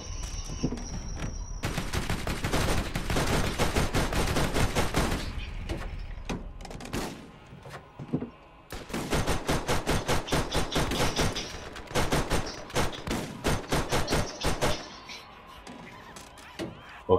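Gunfire in the Borderlands video game: rapid bursts of loud, close shots in two long volleys separated by a short pause, followed by scattered single shots, with no talking.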